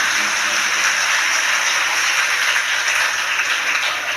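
A crowd at a Shiv Mahapuran katha gathering claps loudly for the chief host family, a dense, steady roar of applause that holds without a break.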